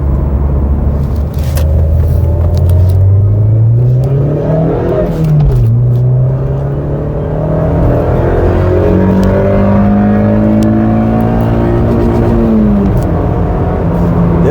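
A Mazda MX-5 NC soft-top roadster engine revs hard and climbs to the rev limiter, a loud, close, continuous rising engine note with no talking over it.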